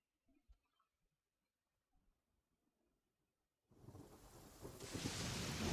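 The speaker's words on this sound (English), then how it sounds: "Hark! 'Tis thundering retribution." Thunder rolls in the video game Genshin Impact, breaking out of near silence into a loud, sustained rumble with heavy rain noise that builds and holds to the end.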